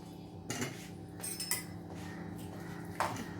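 Metal spoon scraping and clinking against a vessel while mango pickle is mixed, a few louder clinks standing out over a steady low background, close by.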